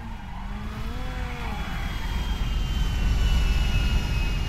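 Airplane engine in the video game GTA 5: a steady droning roar that slowly swells louder over several seconds, with a faint high whine and no speech.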